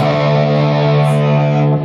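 An electric guitar played through a distortion pedal set to full distortion for a Tool tribute rig, giving a loud, sustained, saturated tone that rings steadily with no talking.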